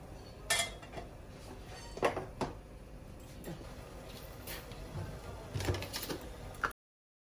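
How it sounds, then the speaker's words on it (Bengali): Clinks of a lid being set on a cooking pot of chicken curry, a few sharp metallic knocks and clatters close by, spread over several seconds against a quiet kitchen background. "ঢাকা দিয়ে দিচ্ছি চিকেন করে"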